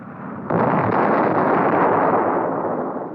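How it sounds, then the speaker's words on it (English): A napalm strike on a simulated Cuban missile guidance control van erupts in a single sudden, loud roaring blast that sustains as a heavy rumbling wash for the rest of the moment. "cameras are run at high speed to record spectacular events like this napalm attack on a simulated Cuban Missile Guidance Control van"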